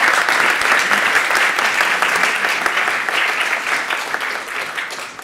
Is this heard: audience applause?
yes